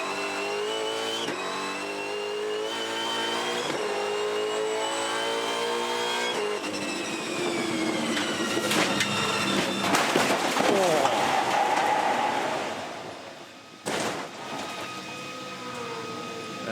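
Onboard sound from a Supercars race car during a 2017 race in Tasmania: a loud, continuous engine note rising and falling through gear changes, with sharp bursts, a brief dip near the end, and some commentary voice underneath.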